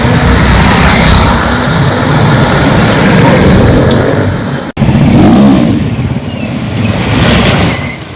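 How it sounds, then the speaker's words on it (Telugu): Motorcycles doing wheelie stunts on a road in Madhapur, Hyderabad, near T-Hub, pass with loud revving engine roars and rushing traffic noise, sustained and close, with a brief dropout midway and no talk. "సింగిల్ వీల్ పై బైక్లు నడపడం వంటి డేంజరస్ స్టంట్స్ చేస్తున్నారు"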